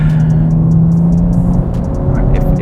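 A manual BMW with an S58 engine pulls hard under acceleration in boost mode, a loud, steady engine drone from inside the car with a rising tone and some cabin rattle.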